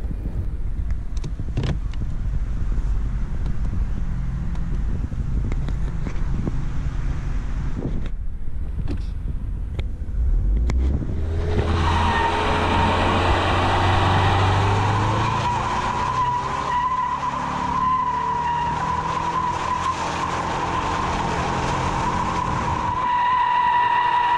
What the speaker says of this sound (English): That was a hell of a rolling burnout.